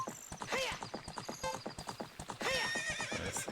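Horse hooves beat a steady galloping clip-clop in Ocarina of Time, with a bright whinny breaking in near the middle and again toward the end, loud and close with no talk.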